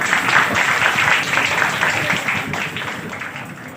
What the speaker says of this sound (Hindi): तो इनके लिए तालियां होनी चाहिए।